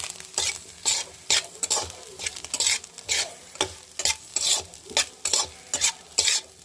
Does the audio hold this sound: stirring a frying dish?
yes